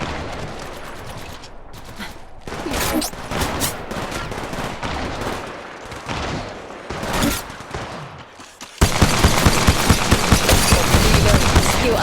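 Rapid automatic gunfire in the mobile shooter Apex Legends Mobile, loud and nearly continuous across the whole span, growing into a denser, heavier barrage for the last few seconds.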